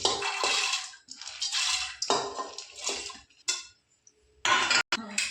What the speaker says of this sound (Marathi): कुकरला आता झाकण लावून घेऊया